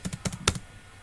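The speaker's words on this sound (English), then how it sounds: "you can just press spacebar like 4 times" A computer keyboard's spacebar pressed several times in quick succession, producing close, crisp plastic clicks that stop after half a second and leave quiet room tone.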